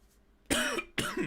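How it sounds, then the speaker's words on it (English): Two harsh coughs in quick succession, close and fairly loud, after a moment of near silence. "So I just got a bit of a tickly cough."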